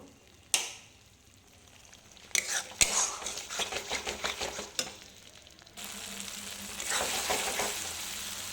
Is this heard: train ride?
no